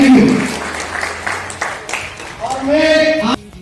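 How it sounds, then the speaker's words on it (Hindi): Applause from an audience seated in a hall, a moderate wash of claps that fades as a voice speaks over and past it. "उनकी भी जोरदार ताली बजाएं"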